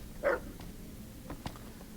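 A single short dog bark rings out in the Fallout video game, followed by a couple of faint yips amid quiet ambient game sound.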